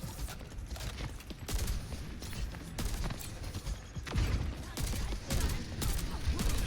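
Continuous dense weapon fire and impacts in the first-person shooter game Overwatch, with bursts of shots and ability effects layered throughout a busy team fight, loud and sustained with no talk.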